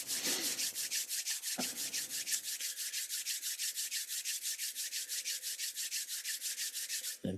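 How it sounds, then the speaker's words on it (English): Hands rubbed briskly together to warm them, a steady rhythmic swishing friction repeated about five times a second for several seconds, close and fairly quiet, with no talking. "I like to start with a little body-mind centering, which I do by rubbing my hands together"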